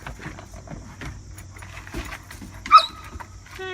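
Puppies scuffling roughly, with scattered soft yips, whimpers and paw scrabbling, then one sharper yelp and a rising whine at the end, fairly quiet and close.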